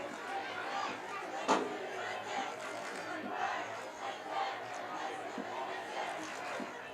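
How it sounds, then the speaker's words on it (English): A high school football crowd at a Campus vs Derby game cheers and shouts after a run, a distant, fairly faint roar of voices and chatter with a brief louder burst. "Crowd getting hyped for that"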